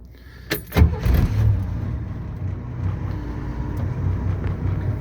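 Engine of a 1967 Chevy G10 van, already warm, cranking briefly and catching, then settling into a steady low idle rumble close by.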